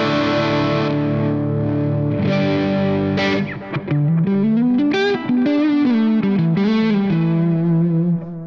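An electric guitar played through a BOSS JB-2 Angry Driver distortion pedal on its bass setting, giving thick, heavily distorted sustained chords followed by a run of separate fuzzy notes, loud and close, with no talk.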